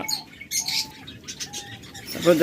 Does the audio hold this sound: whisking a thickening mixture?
no